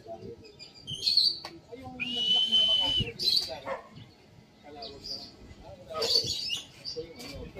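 Pigeons in a loft give short chirps and whistle-like calls in scattered bursts, heard up close over low background noise and some human voices.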